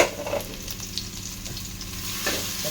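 Garlic, ginger and coconut pieces sizzle steadily in a pan while being stirred, a continuous close crackle with soft scraping strokes and no talking.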